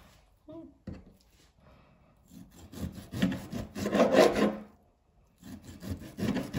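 A very sharp knife slices meat into small, thin stir-fry strips on a board, producing rhythmic rasping strokes that swell and fade, close by with brief pauses between cuts.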